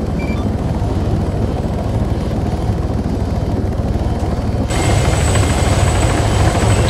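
Helicopter rotor thumping steadily in ArmA 3, a loud continuous chop with engine whine, stepping up in intensity partway through as if the aircraft powers up or the view shifts closer.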